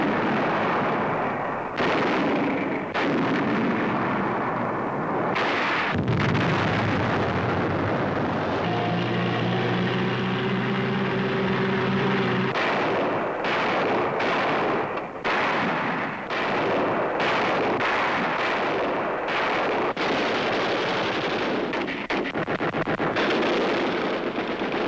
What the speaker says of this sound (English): they open fire on the enemy.